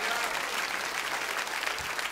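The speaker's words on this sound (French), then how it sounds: "Il faut l'applaudir très fort, allez-y." Loud, dense audience applause at a live concert, a sustained roar of clapping from a large crowd with no break, some voices faintly mixed in.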